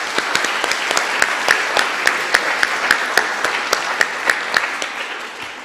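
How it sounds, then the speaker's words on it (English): Audience applause at a university homecoming coronation following a piano performance, a steady crowd clapping with several sharp, close individual claps standing out regularly above the wash, no talking. "Please help me thank DWU Junior Grace Lewis for playing the piano this evening with a round of applause."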